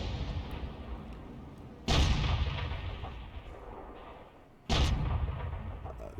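Two booming blasts from a tank's 90mm cannon in a video game, about three seconds apart. Each is a loud, deep report with a long rumbling decay over quiet game ambience.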